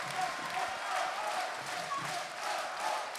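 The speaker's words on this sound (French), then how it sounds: "J'applaudis." Crowd applause at a European club table tennis semi-final, a steady wash of clapping from a hall audience, moderately distant and sustained throughout with faint cheering.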